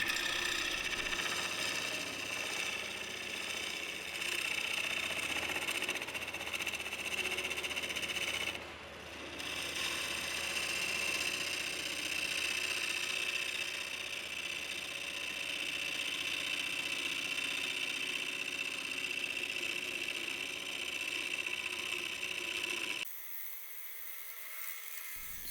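A Hercules number 3 hollowing tool cuts wood on a lathe while shaping a vase, giving a steady, faint high whine and scraping hum that runs continuously with a brief dip partway through.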